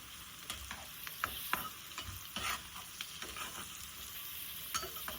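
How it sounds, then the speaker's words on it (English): Masala mixture for chicken biryani tossed in a pot, a low steady sizzle with frequent clinks and scrapes of the spoon against the metal, quiet and close, no talking. "we are tossing it so that it becomes all mixed up and cooked up together"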